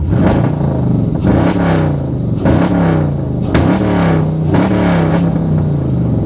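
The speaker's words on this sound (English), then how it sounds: "She's got a pretty wicked exhaust note." A loud, close car engine revs repeatedly in several rising bursts, its deep exhaust note rumbling continuously between each climb and drop, with no talking over it.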